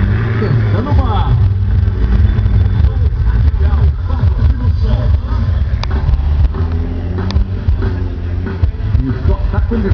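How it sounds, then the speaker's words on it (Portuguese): A caged race car roars as it accelerates at a motor race, a loud continuous engine drone with rising harmonics, while a commentator talks over it. "Vamos lá, acelerando aí."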